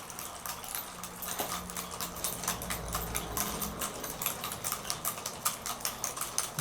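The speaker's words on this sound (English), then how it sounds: "Okay, you can start speeding up the lower motor." An impulse-driver mechanism built by Ted Pittman, its lower motor spinning up, makes a rapid, close mechanical clatter of regular ticks that quicken and grow denser, with no one talking.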